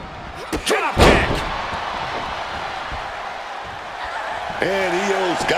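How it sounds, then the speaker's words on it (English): A drop kick lands in the WWE 2K26 wrestling video game, a single loud slamming thud amid a crowd's steady roar, with a voice speaking just before it. "Drop kick."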